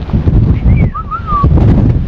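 Steady wind buffeting the microphone on the summit of Cairn Gorm in Scotland, a broad low rumble throughout, with a brief whistling bird call rising and falling in the middle.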